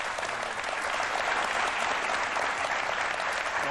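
A studio audience at a 1991 talk show breaks into sustained applause, a thick, constant roar of clapping hands filling the room without a pause.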